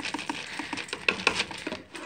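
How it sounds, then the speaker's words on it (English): Small hard snack puffs patter and tumble in quick, uneven bursts as they are poured into a guinea pig cage close by. "I'm probably just gonna dump their puffs in there."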